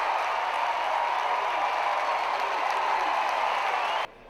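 A college baseball crowd at a South Carolina Gamecocks game roars and cheers after a run-scoring double, making a dense steady wash of noise that cuts off abruptly near the end.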